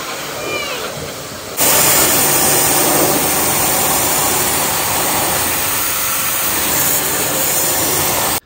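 Car-washing pressure washer machine running: a loud, steady, broadband spray and motor roar that starts abruptly after a quieter opening and continues evenly before cutting off.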